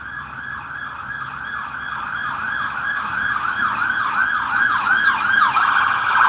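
A fire supervisor vehicle's wailing siren cycling up and down steadily, growing slightly louder as it approaches, with road noise underneath.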